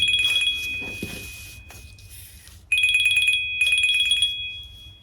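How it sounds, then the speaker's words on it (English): A telephone rings indoors in a sewing room, two bursts of bright trilling bell tones separated by a short pause, loud and alone. "nobody should be ringing me"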